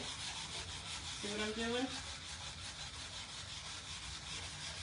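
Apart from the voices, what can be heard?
electric sander buffing wood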